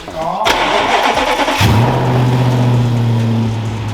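An Audi RS6 Performance engine cranks briefly and catches, then settles into a loud, steady running hum with a low drone.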